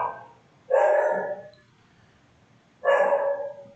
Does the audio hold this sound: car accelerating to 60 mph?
no